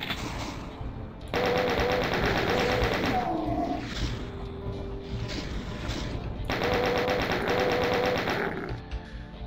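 Rapid chain gun fire in Doom II, long bursts of fast mechanical shots in two main stretches with a short pause between, mixed with game music and effects.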